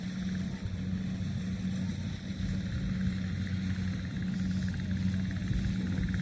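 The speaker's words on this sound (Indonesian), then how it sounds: "Ini mesin panen padi guys" A rice harvesting machine runs steadily in a paddy field, its engine a continuous loud, low rumble with a constant drone and no pauses.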